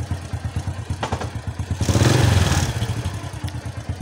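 A motorcycle engine idles with a steady, rapid low thumping pulse, swelling briefly louder near the middle before settling back to a rhythmic chug; the bike is rarely ridden and has a weak, draining battery.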